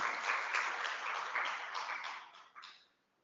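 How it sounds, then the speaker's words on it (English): Conference audience applauding after a speaker, a brief burst of many hands clapping that thins out and fades to silence within about three seconds. "Round of applause."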